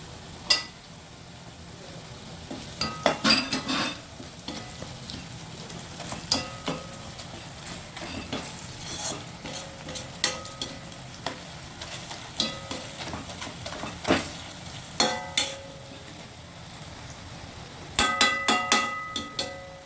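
Garlic being added to ginger in a hot pan, with intermittent scraping and clanking of a spatula stirring against the metal and a soft, steady sizzle underneath.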